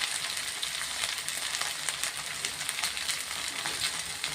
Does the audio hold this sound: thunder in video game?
no